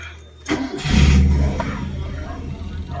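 Car engine cranks and catches after a cylinder head repair, a short whir followed by a loud rumbling start that settles into a steady idle close by.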